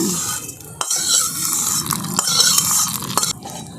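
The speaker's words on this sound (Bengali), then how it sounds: "সমস্ত কিছু একসঙ্গে মিশিয়ে নিচ্ছি।" A spoon clinks and scrapes against a pan as fried ingredients are stirred into chutney for potato dosa. The strokes are rhythmic and close, with light sizzling beneath them and no talking.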